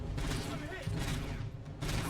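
Rapid gunfire bursts from the RoboCop: Rogue City video game crackle in short waves, mixed with a talking voice throughout.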